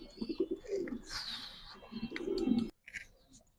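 Spanish Gorgoria pouter pigeons coo repeatedly up close in soft, throaty, rolling bursts, with a short silent break near the end before the cooing resumes.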